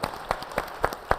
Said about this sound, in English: can we give our panel a big round of applause as well?